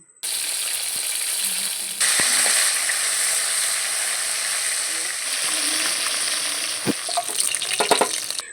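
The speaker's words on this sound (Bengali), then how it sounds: "তেল ভালো করে গরম হয়ে গেলে মাছগুলো আমি এর মধ্যে ভালো করে ভেজে নেব" Bhola fish pieces frying in hot oil, a close, dense and steady sizzle running throughout, with a few sharp clicks and utensil taps toward the end.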